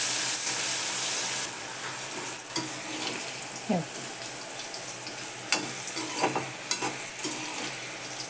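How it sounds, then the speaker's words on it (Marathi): Cluster beans (guar) deep-frying in hot oil for a crisp side dish, stirred all the while: a constant bubbling sizzle, loud at first and then softer, broken by a steady run of scraping and clinking from the stirring utensil. "कडक तेलामध्ये हळूहळू गवार तळायला लागते पण हलवत राहायचं सारखं"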